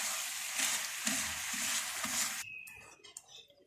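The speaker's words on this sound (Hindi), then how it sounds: "ये देखें हमारी आइसिंग शुगर मेल्ट हो रही है।" Icing sugar melting in a pan into caramel gives a loud, steady sizzle for about two seconds, with a faint stirring scrape. It then drops to quieter scattered clicks and a brief tone.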